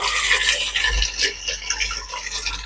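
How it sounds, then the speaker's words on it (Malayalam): Water pours into a cooking pot for boiling kappa (tapioca), a close, continuous splashing rush that stays loud for the whole short stretch. "വെള്ളം ചേർക്കാം കേട്ടോ"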